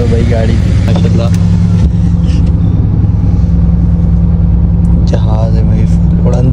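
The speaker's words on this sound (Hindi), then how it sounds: "आवाज सुन लो भाई, गाड़ी की माशाल्लाह" A Mercedes idles close by with a steady low engine rumble running throughout, while someone talks loudly over it.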